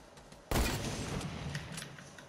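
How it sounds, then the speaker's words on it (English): A single sharp sniper rifle shot in the video game Fortnite cracks out loud and close, then trails off into a lingering echo and scattered distant shots. "I'm trying to snipe these guys"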